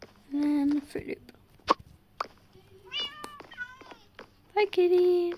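A cat in Minecraft meows several times, short high mews scattered among a few clicks and soft sounds, close and clear, with a person's voice present briefly.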